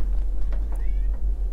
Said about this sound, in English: that was the sound of my cat being hit by a pillow